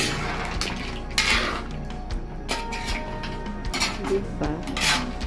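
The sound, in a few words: ladle stirring shrimp and mussels in a pot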